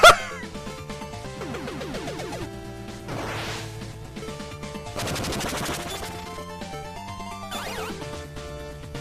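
Mega Man game sound effects from a fan-made level with an ice obstacle: a dense stream of chiptune blips, shot and hit chirps, sweeping zaps and clangs over continuous background music, with no voices.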